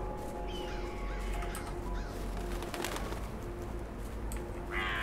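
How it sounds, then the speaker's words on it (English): Ravens cawing in the video game The Secret World, faint calls scattered over a steady ambient background with no talking. "Come on, ravens. Where are you?"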